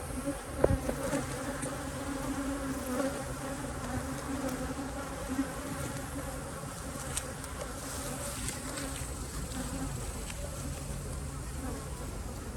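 A dense, steady buzzing of many honey bees at an apiary hive fills the air throughout, close and constant, with occasional louder passes near the listener.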